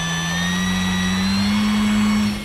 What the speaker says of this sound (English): Motor on.